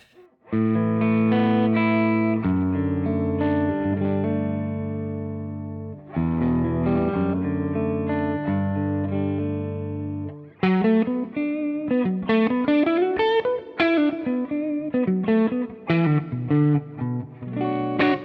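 Overdriven Gibson SG electric guitar through an Amplified Nation Overdrive Reverb amp playing sustained chords, then a quicker run of single notes, with a gritty, saturated tone and light reverb; no voices.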